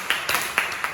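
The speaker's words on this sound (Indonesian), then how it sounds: "Tepuk tangan buat kita semua." A small class claps together in a short burst, several sharp, close hand claps landing unevenly within a second over a faint room background.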